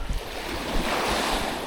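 Ocean waves wash up a steep sandy beach at Pereybere, Mauritius, and draw back with a broad close hiss. Light wind buffets the microphone.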